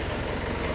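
Isuzu Crosswind diesel engine idling on a cold start with low power and smoky exhaust, a steady close rumble with a shaky, uneven low throb and no talk.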